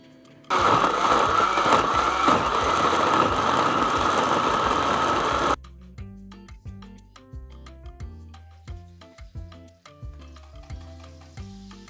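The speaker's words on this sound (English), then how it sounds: "we are going to blend, add a bit of water to the blender" A blender whirs loudly and steadily for about five seconds, then stops abruptly, leaving background music playing.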